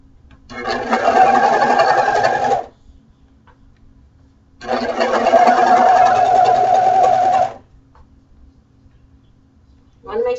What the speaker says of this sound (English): once I finish sewing this